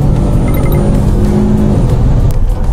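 A facelifted Renault Samsung SM6 is driven hard on a track lap in hot weather, its engine a loud, continuous drone with road and tire roar, heard from inside the cabin.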